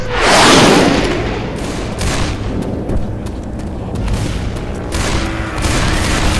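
Heavy, continuous gunfire while shooting zombies in the video game Left 4 Dead 2, a loud, dense barrage with a booming blast at the start and repeated sharp shots throughout, with no talking.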